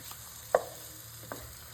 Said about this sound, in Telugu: ఇంకొక వైపు కూడా బాగా కాలేలాగా మనం వీటిని వేయించుకుందాం.